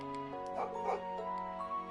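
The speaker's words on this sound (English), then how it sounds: "Woof woof. Doggo." A dog in the video game Trails into Reverie gives a few short, yappy barks and whimpering yips over steady game music, close and clear.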